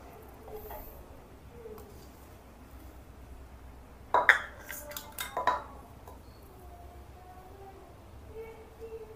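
A measuring cup is handled while ground bhringraj powder is measured, giving a short cluster of clinks and knocks from dish and utensil contact midway through an otherwise quiet stretch.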